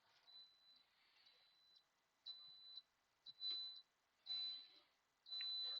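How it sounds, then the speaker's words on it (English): Several short, high-pitched electronic beeps from a rice cooker signal that the rice is done, sounding faintly in separate bursts, some long and some clipped, in an otherwise quiet kitchen. "My rice just beeped."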